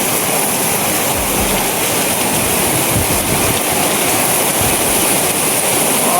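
Heavy rain pours down in strong wind, a loud, steady broadband roar that fills the whole clip without letup and with no voices over it.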